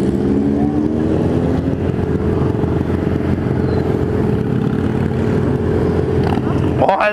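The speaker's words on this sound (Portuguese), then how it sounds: "Paradinha aqui pra ver a quantidade de moto." Many motorcycles of various engine sizes ride through a city street, a dense continuous roar of engines close by with passing vehicles, ending in a brief clatter.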